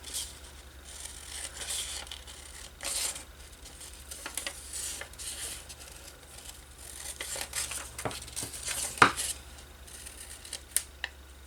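Soft snipping and rustling of scissors cutting out a paper drawing, quiet and close, with small irregular crunches and a few sharper clicks toward the end.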